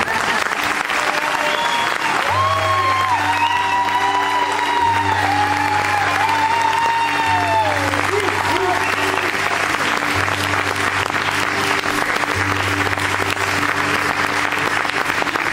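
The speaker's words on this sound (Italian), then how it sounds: "quando lo fate a noi ci piace l'applauso, continuatelo" A live folk concert audience at Bitti, Sardinia, applauding in a loud, continuous roar of clapping, with a singer's voice and a steady musical drone running underneath.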